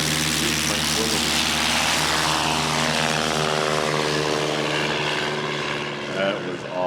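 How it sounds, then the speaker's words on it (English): A light propeller aircraft takes off at a STOL competition, its engine a loud, steady, buzzing drone that holds for the whole stretch with only a slight shift near the end. "This takeoff is going to be 130 feet."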